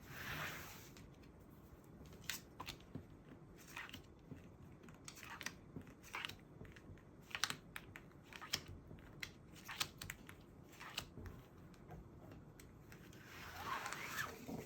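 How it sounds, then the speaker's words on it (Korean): Tarot cards are drawn and handled in a series of soft, close snaps, flicks and shuffling rustles. The irregular crisp clicks and crackles are spread through a quiet room. "카드 세세하게 한 번 더 뽑아 볼게요."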